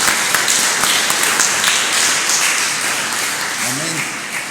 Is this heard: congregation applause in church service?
yes